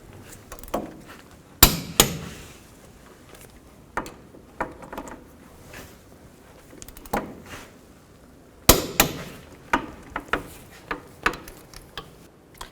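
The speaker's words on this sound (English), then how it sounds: "Now I'm going to torque these bolts to 79 foot-pounds." A torque wrench tightens front brake bolts to 79 foot-pounds on a 2003-08 Toyota Matrix, heard as sharp, close metallic clicks and knocks spaced irregularly, some in quick pairs, over a quiet garage background with no talking.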